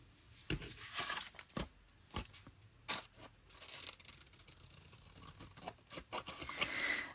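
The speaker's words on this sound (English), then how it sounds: "And then I'm going to trim all around." Scissors snipping around the edge of a mixed-media paper tag, a run of quiet, irregular crisp cuts and paper scrapes close by, with no talking.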